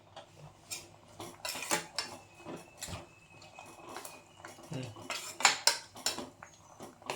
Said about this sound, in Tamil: போட்டு நல்லா கலர்றேன்.